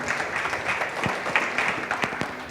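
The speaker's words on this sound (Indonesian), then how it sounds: "Berikan tepuk tangan ya Tuhan kita" Clapping rings out in a church worship service as the congregation gives applause to God, a moderately loud, steady patter with a few sharper claps standing out.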